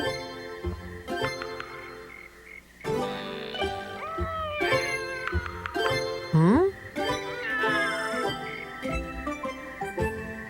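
Several drawn-out cat meows with rising and falling pitch, mixed with a busy background of other sounds and voices.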